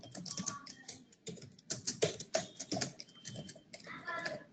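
Typing on a computer keyboard during a Unix lesson, with quick, close, irregular bursts of key clicks and short pauses between runs of keystrokes.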